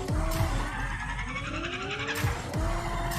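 A car in the Rocket Racing video game drifts with loud engine roar and squealing, skidding tires. Pitch sweeps rise and fall through chained drifts, with sharp whooshing boost bursts near the start and end.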